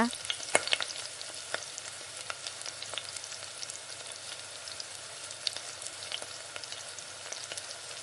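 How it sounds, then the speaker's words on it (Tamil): Green chillies sautéing in hot oil in a pan for tomato thokku, a soft continuous crackling sizzle with scattered pops throughout, fairly quiet and close, with no voices. "இப்போ இது கூட பச்சை மிளகா சேர்த்துக்கோங்க."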